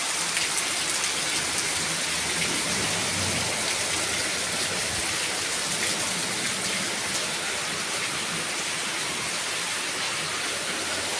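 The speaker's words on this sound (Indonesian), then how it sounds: "Hujan guys. Deras sekali. Banjir rumahnya." Heavy rain pours steadily on a house during flooding, a dense, continuous wash of drops drumming on surfaces and running water, loud and unbroken with no voices.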